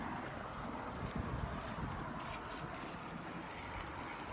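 Wind buffets the microphone while biking outdoors, a steady loud rumbling roar that fills the whole moment without letup.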